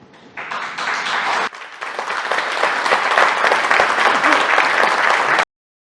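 An audience breaks into applause during a political speech about the Supreme Court and the Constitution, a dense, steady round of clapping that swells slightly, then cuts off abruptly.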